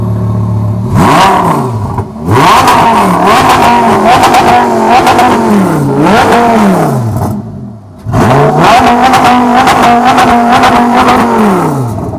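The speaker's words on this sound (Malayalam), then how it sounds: "വളരെ നല്ല രീതിയിൽ തന്നെയാണ് ഈ ഒരു വാഹനത്തിൻ്റെ എക്സോസ്റ്റ് സൗണ്ട് എല്ലാം നമുക്ക് കേൾക്കാൻ കഴിയുന്നത്" Lamborghini Gallardo Spyder exhaust roaring loudly up close through repeated sharp revs, each climbing and falling, with brief pauses between bursts and no voices.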